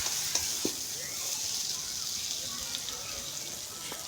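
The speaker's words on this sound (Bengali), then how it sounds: "এরকম আস্তে আস্তে করে নাড়তে হবে আর সব জায়গায় মিশিয়ে দিতে হবে।" Chicken chow mein with soy sauce and tomato sauce is stirred slowly in a pan, giving a steady soft sizzle with occasional faint scrapes of the utensil throughout.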